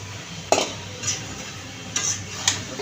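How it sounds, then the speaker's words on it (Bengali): Taro greens stir-fried in a pan with spices, a soft frying hiss broken by a few sharp metallic spatula scrapes and clinks spaced about half a second apart, close by. "কচুর শাকটা দিয়ে আমি কষাই নিব।"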